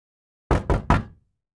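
Three sharp knocks on a door in quick succession, loud and close, followed by silence.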